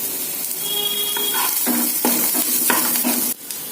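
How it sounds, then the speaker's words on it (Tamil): Curry leaves and chopped onion fry in hot oil as ridge gourd curry is prepared, sizzling loudly and continuously close by while a spoon stirs and scrapes the pan. "கருவேப்பிலை கொஞ்சம் போடுறேன்."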